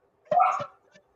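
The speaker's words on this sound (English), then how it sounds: "Do they hear my dog? And now they're barking?" A single short dog bark, close and fairly loud, followed by a faint brief yip, with silence around it.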